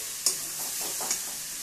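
Brinjal fries in a kadai with a steady bright sizzle, marked by one sharp utensil clink early and a softer knock near the end, heard up close with no speech.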